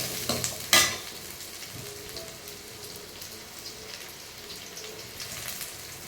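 Soft, steady sizzling of onions, garlic, ginger and dried red chillies frying in a pan, with a clatter of stirring at the start, close and quiet.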